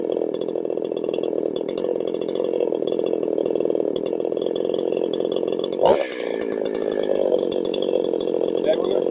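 A chainsaw engine runs steadily at idle after a carburetor idle speed adjustment, a loud continuous buzzing drone with a short sputter and dip partway through before it settles back.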